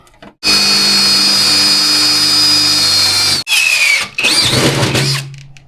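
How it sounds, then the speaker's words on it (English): A handheld power drill boring starter holes into a golf cart for a back seat: a loud, steady whine lasting about three seconds, a brief stop, then shorter bursts as the bit bites and releases. "Okay, we gotta get our holes drilled."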